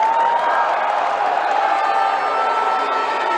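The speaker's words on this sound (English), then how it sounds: "Crowd yelling for travel on that one." A basketball crowd at a Premier League men's grand final between Mt Gambier and Forestville yells and roars for a travel call, a loud, steady wall of shouting voices filling the arena without a break.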